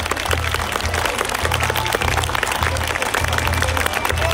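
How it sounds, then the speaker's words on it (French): Loud, dense applause from a crowd at a knights' tournament in Les Ponts-de-Cé, continuous throughout, with a low rhythmic thumping running underneath. "Je crois que la vague d'applaudissements se bouge."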